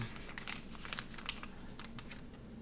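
Pulled-apart steel wool is folded up by hand, making faint, close crinkling and scratchy rustles with a few sharper crackles, no voices.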